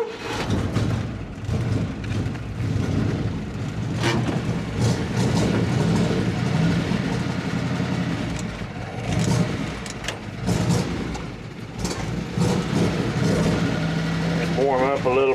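An engine started on the choke warms up at a steady, rough idle, with running oil pressure at about 60 pounds, and the motor stays loud and continuous throughout while someone talks briefly over it.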